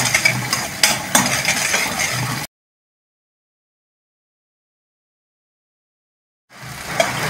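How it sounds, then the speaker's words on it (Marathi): Masala being sautéed in a pan for a ridge gourd (padwal) curry: close scraping and stirring in two short bursts separated by a long silence, with no speech. "मसाला छान परतून घेऊयात।"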